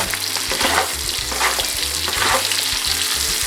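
Chopped onion frying in bacon fat in a pan, a loud steady sizzle broken by repeated scraping stirs, with no talking.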